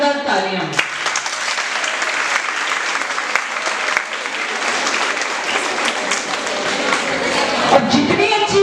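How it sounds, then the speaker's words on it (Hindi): Children at a self-defence training session in a school clap loudly together in sustained, dense applause that fills the whole stretch, with a brief voice briefly audible near the start. "तो अपने लिए जोरदार तालियां।"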